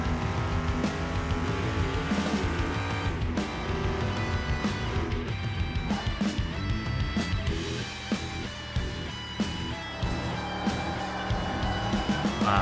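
Engine of a tuned Bolt Reptilia car in Car Mechanic Simulator 2021 accelerating hard, a loud, continuous roar with shifting tones and revving across the whole stretch, backed by a steady dense layer of game sound.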